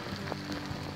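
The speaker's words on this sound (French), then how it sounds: "Je sais pas si vous entendez la pluie là." Rain falling outdoors in cold spring weather, a steady dense patter on surfaces for one second with no voices.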